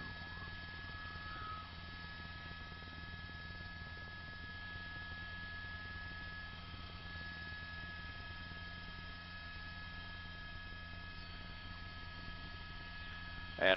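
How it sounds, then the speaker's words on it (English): A police helicopter hovers overhead during a high-speed car chase in Orange County, its engine a steady droning hum with whining tonal overtones that stays constant and fairly distant throughout. "Maybe is unaware that the chopper is still overhead."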